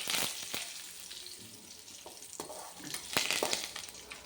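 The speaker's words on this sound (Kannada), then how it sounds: "ಎಲ್ಲ ಚೆನ್ನಾಗಿ ಸ್ವಲ್ಪ ಫ್ರೈ ಮಾಡ್ಕೊಳ್ಳಿ." Spices, pepper and curry leaves sizzle and fry in a pan for a cucumber curry, a steady close hiss broken by sharp crackles and stirring scrapes.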